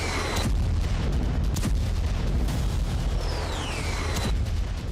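Explosions from Israeli air force strikes on Gaza, several heavy booms and sharp bursts over a continuous dense rumble, with a faint whistling tone passing through.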